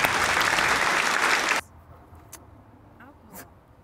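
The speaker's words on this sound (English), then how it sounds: "can someone clap for me when I say this?" A crowd of people clap outdoors in a park, giving a loud, dense burst of applause for about a second and a half that stops abruptly, leaving quiet outdoor ambience with faint distant sounds.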